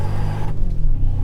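A new Toyota Tacoma TRD Pro engine drones with a low rumble as the truck, rear locker engaged, pushes through deep snow and ice, loud and close before the pitch shifts and eases off.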